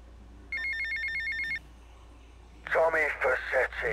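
A phone rings in the video game GTA Vice City Definitive Edition, giving a bright trilling electronic ring for about a second. A pause follows, then a voice begins speaking.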